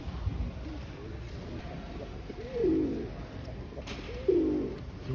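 Soft pigeon cooing at a pigeon show, two low throaty coos a second or so apart, over steady background noise.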